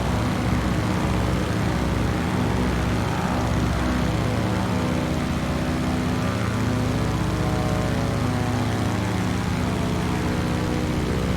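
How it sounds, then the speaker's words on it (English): Steady, loud propeller drone of three World War II-era warbird aircraft flying in formation in a flight simulator game, continuous engine hum with shifting tonal harmonics throughout, no voices. "We got a formation of 3 warbirds."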